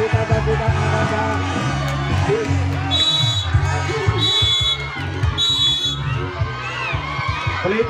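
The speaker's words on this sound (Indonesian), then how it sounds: "Peluit panjang sudah dibunyikan oleh wasit" Three long, shrill referee's whistle blasts ring out over a loud, constant crowd roar at a gobak sodor tournament match.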